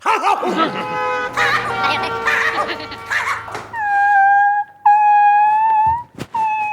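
Dogs howling inside a police post, seemingly a person imitating them, come as drawn-out wavering howls after a stretch of voices talking.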